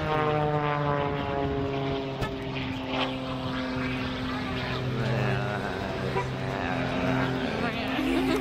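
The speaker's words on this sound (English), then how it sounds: "there's currently a plane that's flying around over there" A propeller airplane at an airshow drones loudly and steadily overhead, its engine tone wavering as it passes, with crowd and outdoor noise beneath and no clear speech.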